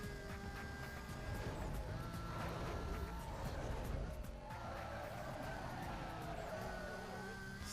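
A racing car engine in Need for Speed: Most Wanted whines steadily and grows nearer, a continuous revving roar with shifting pitch, alone and fairly loud throughout.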